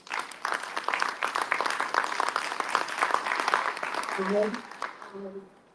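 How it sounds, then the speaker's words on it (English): Applause from a pop culture expo panel audience fills the room, a dense steady patter of many hands that tapers off at the end, with voices talking over its final seconds. "Give him a hand clap for the questions"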